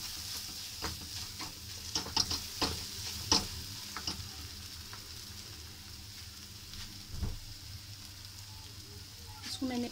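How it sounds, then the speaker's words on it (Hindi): Egg being stirred and mixed in a hot pan, a quiet steady sizzle with soft scraping taps of a utensil scattered through it, faint and close. "मैंने डाला अंडा, इसको अच्छे से मिक्स कर लेंगे मिक्स।"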